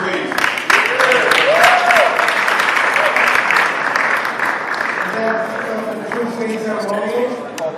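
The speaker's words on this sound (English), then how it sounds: "Round of applause for young people too, please." Audience applause fills an award ceremony at City Hall, a sustained, dense burst of clapping from a crowd, loud and steady throughout, with a voice speaking briefly over it.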